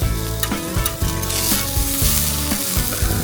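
Pork neck, basted in marinade, sizzles on a grill over homemade hardwood charcoal, a steady close crackle that fills the whole stretch, with a tonal, music-like layer underneath.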